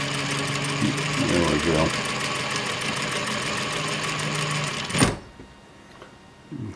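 A home sewing machine set to a slower speed stitches fabric for a Lutterloh pattern #33 garment, a steady mechanical whirring with rapid needle ticks that stops abruptly near the end, with a brief spoken remark over it.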